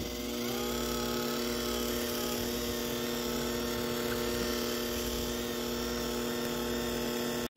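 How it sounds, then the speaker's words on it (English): Two eggs being beaten into creamy dark brown sugar and vegetable oil cookie batter for chocolate chip and Smarties cookies, heard as a steady, droning electric mixer whir with a constant tonal hum running throughout, no talking. "Now beat in 2 eggs,"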